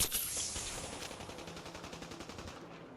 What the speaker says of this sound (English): Getting shot from 2 sides.